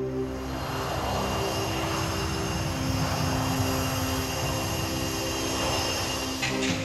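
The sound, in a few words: passenger plane taking off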